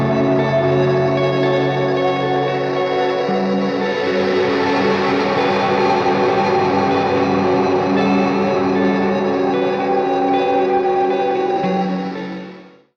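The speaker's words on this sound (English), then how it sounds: "So I could use the Bit Crush reverb to create soundscapes that sound like this." An Old Blood Noise Endeavors Dark Star reverb pedal in bit crush mode makes a dense, sustained, shimmering soundscape of layered droning tones with shifting pitch, loud and alone, fading out at the end.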